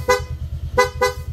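A PIA horn fitted to a Honda Click scooter gives three short, loud toots close by: a single beep, a gap, then two quick beeps, with a low motor hum running underneath.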